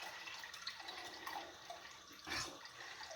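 Water runs slowly from a kitchen tap while a shower is on elsewhere in the house, a soft steady trickle with faint drips and a brief louder splash near the end.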